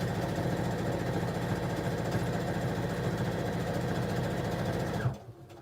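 A sewing machine runs a steady fast stitch along the seam of a quilted cell phone pouch, with a continuous close mechanical whir that stops abruptly near the end.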